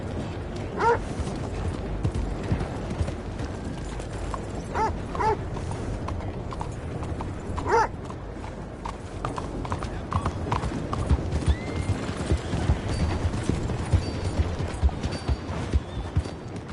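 Steady clip-clop of video game horse hooves trotting along, rhythmic and close, with a few brief sharp accents scattered through.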